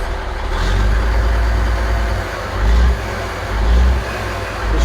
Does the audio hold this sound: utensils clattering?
no